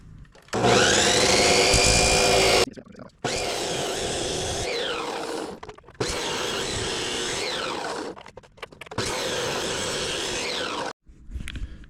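A chop saw with a 1/8 inch kerf blade cuts slots into a metal pipe for a trailer build: four long, loud whining cuts, each starting abruptly and running about two seconds with short quiet gaps between them, no talking.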